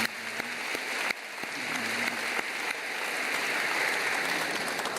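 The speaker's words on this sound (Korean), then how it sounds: "박수로 다시 환영하세요" A church congregation claps in welcome after a choir's song, applause swelling from a few claps into a dense, steady roar.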